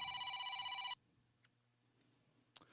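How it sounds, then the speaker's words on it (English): A telephone rings once with a bright, trilling electronic bell lasting about a second, followed by near silence and a faint click. "Let's answer the phone here live on Above the Cushion."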